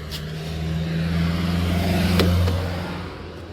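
A truck drives slowly around a Chennai yard on a hot day, its engine a steady low rumble that swells a little midway, near and continuous with no talk.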